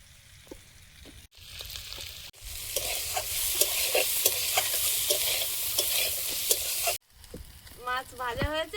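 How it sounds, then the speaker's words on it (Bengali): Dried fish (shutki) fries in a pan with a loud, steady sizzle, broken by repeated scraping stir strokes; the frying briefly stops, then resumes with a faint voice at the end. "মাছ ভাজা হয়েছে, ঢেলে নেব।"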